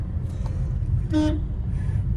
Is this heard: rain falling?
no